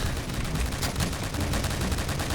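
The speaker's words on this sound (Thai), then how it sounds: "เดี๋ยวผมจะเล่นปืนที่ผมสุ่มได้" Dense, sustained gunfire from a firearm in a Point Blank shooter game, a rapid continuous rattle of shots filling the whole stretch at steady loudness with no talking.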